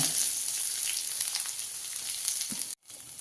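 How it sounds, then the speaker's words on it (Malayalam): Chopped onion sizzles steadily in hot coconut oil in a pan, a continuous close frying hiss that drops out briefly near the end. "ഇതിലേക്ക് കുറച്ച് വെളിച്ചെണ്ണ ഒഴിച്ച് ഒരു സബോള അരിഞ്ഞത് ഇത് ഇതിലിട്ടൊന്ന് വാട്ടിയെടുക്കാൻ"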